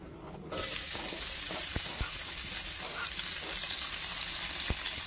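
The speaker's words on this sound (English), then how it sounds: "And cook the onion well until it's translucent." Diced onion hits a hot pan and sizzles steadily, a close, even frying hiss that starts abruptly and continues alone with faint stirring noises.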